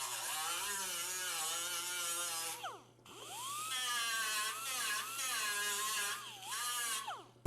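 A small grinder works the metal of an Austin-Healey 3000 shroud, giving a high, buzzing whine that dips and rises as pressure changes, with a short pause midway, steady and moderately close.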